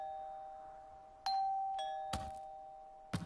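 A doorbell chimes in the Wii horror game Ju-on (Kyoufu Taikan Juon), with a sustained electronic tone followed by several sharp ding-dong strikes and a final chime, clear and alone over a quiet background.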